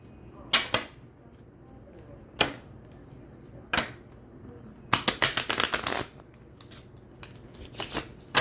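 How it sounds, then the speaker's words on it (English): Tarot cards shuffled by hand in short riffling bursts with pauses between them, close and crisp, ending in a longer flurry of rapid riffles. "Hang on, I gotta shuffle one more time."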